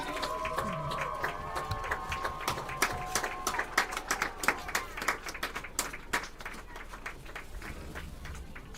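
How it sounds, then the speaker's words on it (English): A crowd at a high school varsity football game applauds for a retiring coach, a burst of scattered outdoor clapping that swells and then thins, with faint voices and background noise mixed in. "Let's give him a big round of applause."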